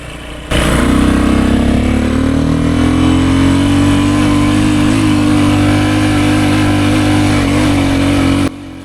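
A 50-year-old Honda enduro motorcycle is ridden on a group ride, its engine droning loudly and continuously with a steady, slightly rising pitch from close range, alone without voices.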